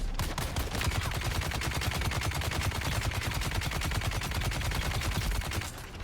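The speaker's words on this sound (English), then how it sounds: "Someone's firing at me from behind as well." Sustained rapid gunfire in the Dune Awakening video game, dense automatic bursts from a heavy weapon and incoming fire from behind, loud and continuous throughout with no talking.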